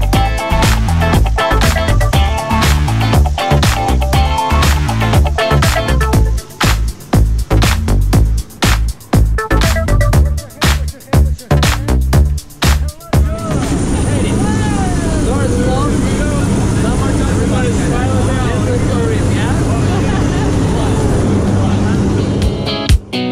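Skydiving plane for a tandem jump, a steady loud engine drone filling the second half after a stretch of choppy, rumbling noise, with people talking over it earlier.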